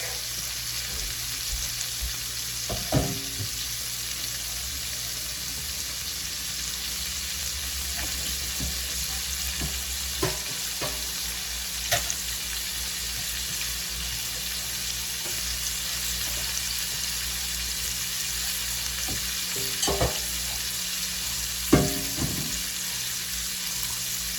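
Oysters fry in hot oil in a pan with a steady, even sizzle across the whole stretch. A few faint clinks and taps rise now and then, with no voices.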